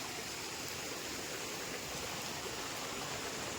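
A rain-fed stream runs through dense forest on the way to a jungle temple, giving a steady, unbroken rush of flowing water that stays even throughout with no voices.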